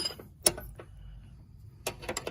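Ratcheting clicks from a wrench tightening a 12 millimeter bolt during a Brembo brake swap on a Dodge Charger, a few sharp close clicks at the start and a quick burst near the end, quiet between.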